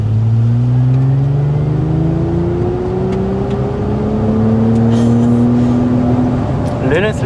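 A 2026 Hyundai IONIQ 6 N electric car accelerating hard around a circuit in M mode, its synthetic engine-like tone climbing steadily in pitch through simulated gear shifts, loud and close.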